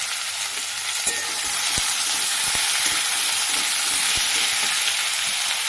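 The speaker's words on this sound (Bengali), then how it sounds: "এরপর দিয়ে দিলাম কুচিয়ে রাখা পেঁয়াজটা, আর এর সাথে আমি দিয়ে দেব কেটে রাখা আলুটাকে" Chopped onion and potato hit hot oil in a pan along with bay leaf and dried chilli, setting off a loud, continuous close sizzle with a few faint clicks of a utensil throughout.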